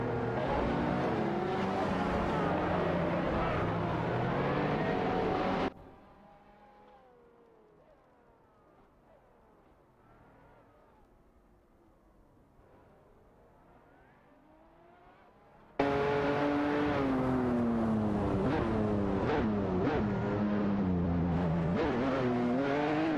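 McLaren F1 GT and Ferrari F60 America racing in a video game, loud engines revving and shifting through gears, dropping to a quieter muffled drone for about ten seconds before the roaring engines return at full volume.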